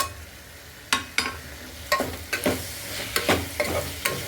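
Spices for road-side style kurma sauté in a pan with chicken masala, chili, turmeric and coriander powders, steady sizzling broken by repeated sharp clacks and scrapes of a spatula stirring, close and clear.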